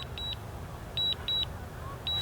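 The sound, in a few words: drone controller beeping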